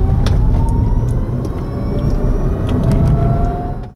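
Electric Smart ED car pulling away, a loud close low rumble with a rising whine climbing steadily in pitch, some thumps of road noise, ending abruptly.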